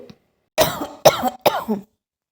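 Three harsh coughs come close together after a short pause, loud and near with nothing else behind them.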